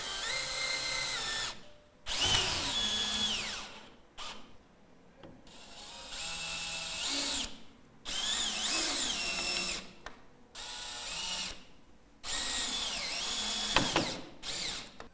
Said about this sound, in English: Don't quite fasten the screw all the way in, as you will want to adjust it just before for the final fix.